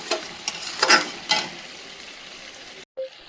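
Country chicken meat is stirred and scraped in a hot pan as it fries, with several sizzling, scraping strokes close by, then a brief cut to silence and one last short stir.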